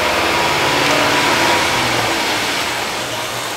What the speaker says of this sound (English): Rev engines with load off